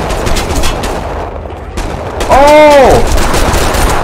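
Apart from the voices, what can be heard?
gunfire in 25 to Life video game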